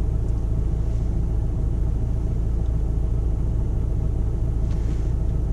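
A car engine rumbles steadily at a constant low pitch as the car is driven slowly through a bay-parking manoeuvre during a driving lesson, an even, unbroken drone with no voices.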